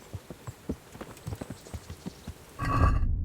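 Horse hooves clip-clop in a steady approaching rhythm on the ground in the medieval game Kingdom Come: Deliverance, growing nearer before a louder burst as the horse arrives close by.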